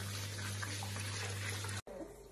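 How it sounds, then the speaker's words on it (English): Tap water runs steadily at a kitchen sink for meatball making, a continuous close hiss with a low hum beneath that cuts off abruptly near the end. "So you just run a wee bit of water."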